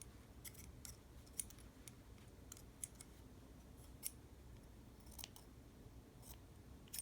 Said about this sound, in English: I just take my scissors and cut the edges.